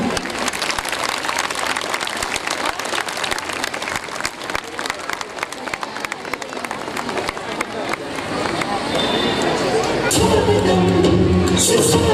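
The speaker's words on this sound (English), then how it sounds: "Put your hands together and welcome him." A crowd at a school fest bursts into sustained applause, dense clapping that keeps going and swells toward the end, with voices and cheering mixed in.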